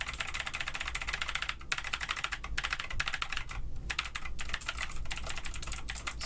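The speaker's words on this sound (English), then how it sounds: "nothing will happen on my keyboard" Rapid typing on a computer keyboard, a dense steady clatter of key presses close by with brief pauses, quiet overall.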